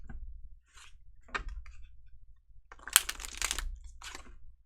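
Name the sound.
shuffling tarot cards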